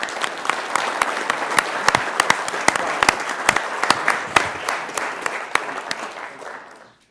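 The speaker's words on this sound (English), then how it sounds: "Let's give them a rousing round of applause." A large crowd applauds steadily for about seven seconds, dense clapping with a few sharper claps standing out, tapering off at the end.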